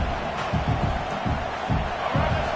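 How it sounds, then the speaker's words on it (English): Loud, dense roar of a stadium crowd at a college football game, sustained with pulsing surges of shouting, enveloping and distant-wide rather than close. "This crowd, full throat, splitting the eardrums"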